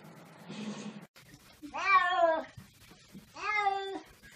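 A cat meows close up three times: a short muffled sound first, then two loud, drawn-out, whining meows with a pause between them.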